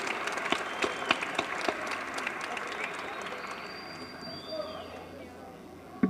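A lecture audience at Ariano Suassuna's talk applauds in a steady, broad wash of clapping that carries through the whole stretch, with a few sharper claps standing out and faint room noise beneath.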